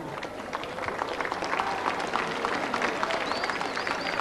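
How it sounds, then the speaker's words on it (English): Applause from a live concert audience in Agios Nikolaos, Crete, in 1995, many hands clapping densely and continuously at moderate distance, swelling slightly midway, with a faint whistle near the end. "And to applause again, please,"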